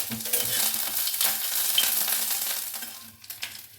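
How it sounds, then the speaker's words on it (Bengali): Grated ginger fries in hot mustard oil in a kadai, producing a steady, close, crackling sizzle that carries on without pause and with no talking. "এরপর আমি এতে গ্রেটেড আদাটা দিয়ে দেবো।"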